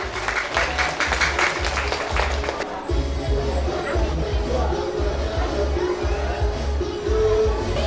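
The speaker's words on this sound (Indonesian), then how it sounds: "Berikan tepuk tangan yang lebih meriah Bapak Ibu." Parents and guests applaud a student at a Qur'an completion ceremony at an Islamic school, lively clapping over a thumping low rhythmic beat, with crowd murmur underneath.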